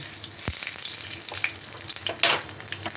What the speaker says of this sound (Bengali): তেলটা গরম হয়ে গেছে এখন আমি দেব এতে কালো জিরে